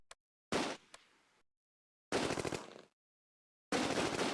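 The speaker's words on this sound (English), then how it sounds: "The 30 caliber targets the MG42 opposite." Machine gun fire in the Close Combat World War II video game, a .30 caliber gun trading fire with an MG42, heard as three loud, close bursts of rapid automatic shots separated by dead silence.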